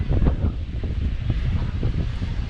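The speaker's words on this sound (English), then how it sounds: "You can see how strong the wind is." Strong wind buffets the microphone on a beach at Santa Ponsa, Mallorca, a steady loud rumbling roar with gusting surges and no talk.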